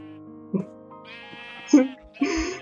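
Minecraft sheep bleats mixed with a voice calling out, some of his sounds imitating the animal; short, wavering baa-like tones stand out over the speech.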